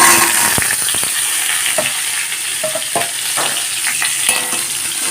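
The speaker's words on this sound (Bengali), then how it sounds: "তেলটা গরম হয়ে গেছে ডাঁটাগুলোকে দিয়ে দেবো" Drumstick stalks fry in hot mustard oil in a pan, a steady loud sizzle with crackles and occasional stirring scrapes throughout, no voices.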